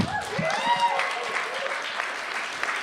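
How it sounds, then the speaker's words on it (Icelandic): An audience claps for poetry slam contestants at a library event, a dense burst of applause with some voices mixed in. "Við skulum gefa öllum keppendum mjög mikið klapp."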